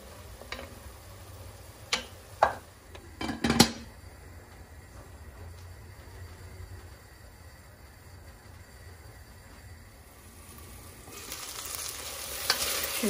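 Meat being sautéed in a pot as its juices cook off, with a few sharp scrapes and clanks of stirring early on, then a steady low sizzle that swells louder near the end.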